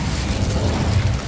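Incendio fire spell in the Hogwarts Legacy video game, a brief, loud, roaring burst of flame with steady broadband rushing noise and a low rumble throughout, no voices over it.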